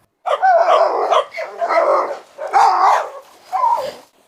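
Rottweiler and Pitbull barking and snarling in a yard as they nearly start a fight, loud close bursts in four sustained clusters separated by short gaps.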